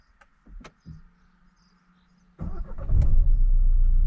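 A few faint clicks and a whirring starter, then a CF Moto 520L quad ATV engine catches and settles into a loud, rough idle close by.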